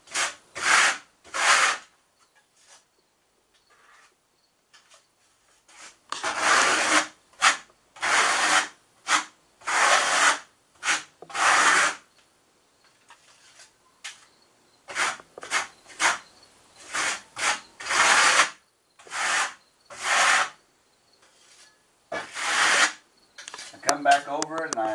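A steel trowel drags plaster skim coat up a wall, long rough scraping passes in repeated bursts with short pauses between, close and fairly loud.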